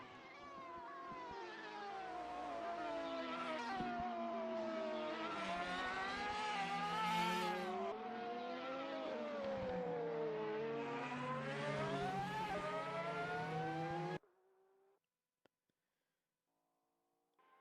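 Several GT500 race cars in a Super GT sim racing game at Yas Marina roar down the straight, layered engine whines climbing and shifting together for many seconds, then cutting abruptly to near silence.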